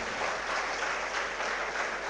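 An audience at a civil-services success event claps loudly for a guest speaker, a dense, even roar of applause held steady throughout.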